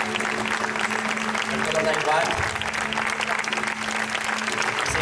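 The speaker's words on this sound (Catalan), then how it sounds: "Seguim aplaudint perquè este xic també s'ho mereix." Concert audience applauding steadily and loudly at a Catalan music show, sustained clapping throughout with a voice speaking over it.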